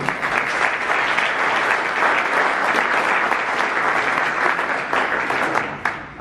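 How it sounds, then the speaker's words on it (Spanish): A crowd claps loudly and steadily for about six seconds to welcome a speaker at a tech conference talk, GDG DevFest Medellín 2018, the applause thinning slightly near the end. "Recibámoslo con un fuerte aplauso."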